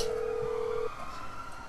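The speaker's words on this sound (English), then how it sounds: "Let's phone my mechanic." Phone dialing tone in the video game GTA V, a single steady electronic beep held for just under a second before cutting off, leaving faint background hum.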